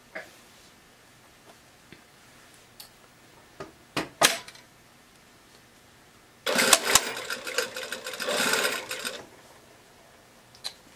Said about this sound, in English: we're sewing all these layers down